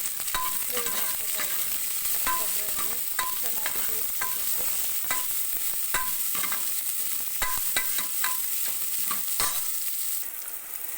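Garlic and onion fry in a pan with curry leaves for a village-style toor dal sambar, a steady close sizzle broken by frequent light scrapes and clinks of a stirring spoon, without any talking.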